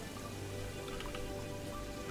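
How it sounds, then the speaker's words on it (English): Steady rain falls in the video game Terraria, a soft, even patter of drops that continues without a break and plays alone with no voices over it. "Although it is raining, maybe I should try for a Nimbus Rod right now."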